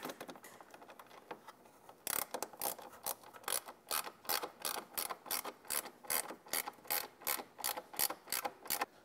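Bolts being tightened on the controller plate of an E-Z-GO RXV golf cart with a ratchet, giving a close, steady run of about twenty evenly spaced clicks after a quiet start.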